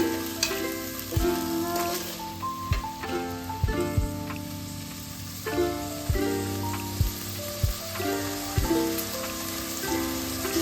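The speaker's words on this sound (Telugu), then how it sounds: "ఇక్కడ ఫ్రై చేసుకోవాలి వన్ మినిట్ ఈ పెసర్లు కూడా ఆయిల్లో ఫ్రై చేసుకోవాలండి" Soaked moong beans frying in hot oil in a home kitchen, a soft steady sizzle running under prominent background music with occasional stirring knocks.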